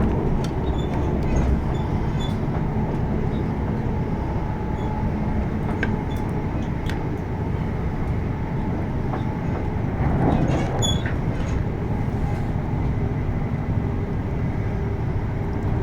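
Greater Anglia Class 720 electric multiple unit running toward Southend Victoria, heard from inside as a steady rumbling roar of wheels and traction with faint clicks, brief squeal and rattles throughout, no voices.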